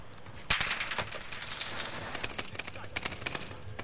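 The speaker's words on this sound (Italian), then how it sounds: "Mi sparano, non so da dove." Gunfire in Call of Duty: Modern Warfare, with rapid automatic bursts and scattered single shots cracking over a continuous game background, fairly dense and unbroken, with no clear speech.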